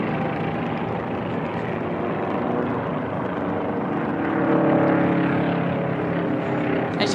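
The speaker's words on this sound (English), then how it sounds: "the engines on this are the O200s, very familiar to a lot of pilots." A Formula One air race plane with a tweaked O-200 engine at the 2019 National Championship Air Races drones loudly and steadily as it passes, swelling slightly as it comes nearer, with no talk over it.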